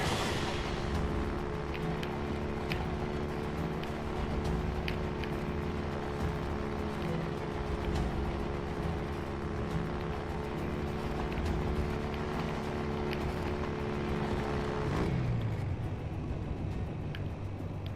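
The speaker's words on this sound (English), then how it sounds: "It's quite fun just running things over in this bike." A motorbike in the game Helldivers drives steadily with a continuous droning engine hum and mechanical rattle, then the engine pitch drops sharply near the end as it slows or stalls.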